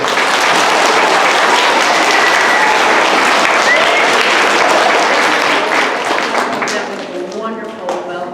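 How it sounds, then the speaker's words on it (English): Sustained applause from an audience at a birthday gathering, dense and loud clapping that tapers off near the end as voices start to come through. "Let's applause for her"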